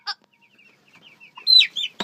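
Chickens clucking in short bursts, a mother hen near young chicks, with sharp, fairly close calls spread across a quiet background and clustering toward the end.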